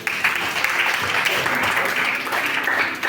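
Church congregation applauding together at a worship service, steady dense clapping sustained throughout at even loudness, a broad crowd sound filling the space.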